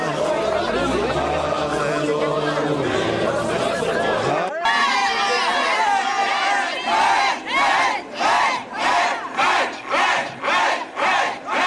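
A crowd of seminarians and deacons forcibly pushes out believers and nuns of a church, giving a loud, dense roar of shouting voices that turns into rhythmic, pulsing chanting bursts.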